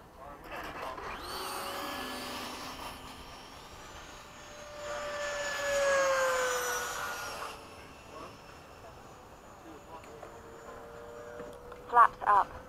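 BAE Hawk jet heard from inside the cockpit during a touch-and-go, a muffled, steady engine whine that swells to a louder roar in the middle, with crew voices over the intercom.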